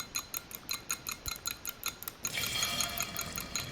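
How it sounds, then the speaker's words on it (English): Four large eggs being whisked in a bowl: quick, evenly spaced light clicks of the whisk, then a denser, steadier swishing beating at close range, with no talking. "Crack 4 large eggs. Whisk thoroughly"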